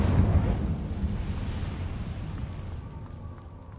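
An Incendio fire spell is cast in Hogwarts Legacy. A sudden fiery burst whooshes out loudly at the start, then its roar fades steadily over a few seconds.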